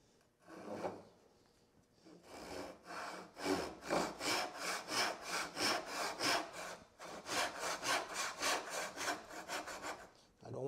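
A hand saw cuts a wooden tenon for a mortise-and-tenon joint with close, rhythmic back-and-forth strokes, starting with a few tentative passes before settling into a steady run of even strokes.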